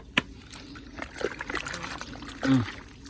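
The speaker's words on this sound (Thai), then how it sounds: "เอาน้ำอีกสองถัง" Water poured from buckets into a fermenting mix of ripe papaya for plant fertilizer, with a few splashy pours and trickles close by, the loudest near the end, amid soft background noise.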